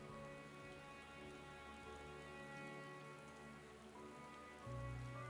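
Rain falls steadily in Radz-at-Han in the game Final Fantasy XIV: Endwalker, a quiet even patter under sustained tonal game music, with no voices.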